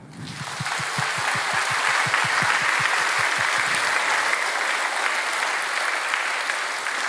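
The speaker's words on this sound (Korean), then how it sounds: "하나님께 영광의 박수를 한번." Sustained applause from a church audience at a large religious conference lecture, steady and dense from start to finish with rhythmic low thumps early on, loud and unbroken, no voice over it.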